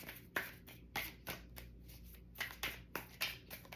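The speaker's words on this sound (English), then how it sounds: "let me just shuffle again." Tarot cards being shuffled by hand, a series of soft papery riffles and slaps in an irregular rhythm, close and fairly quiet, with no voices.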